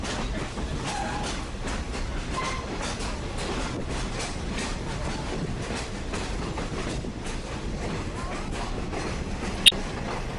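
Train on the Black River & Western railroad during Railfest, heard as a steady broadband rolling rumble with faint clatter throughout, moderately distant, ending with a brief sharp click near the end.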